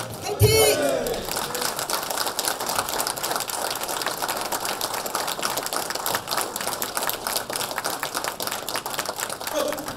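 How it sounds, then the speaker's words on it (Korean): A crowd at a Korean party delegates' convention in Jeju applauds and cheers as candidates enter, with a sharp burst at the start followed by sustained clapping that continues under a voice over the hall. "큰 박수와 환호 부탁드립니다"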